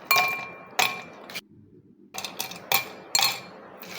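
Spoon clinking against a glass while stirring homemade sherbet, a series of sharp bright chimes in two bursts separated by a brief pause, close and loud.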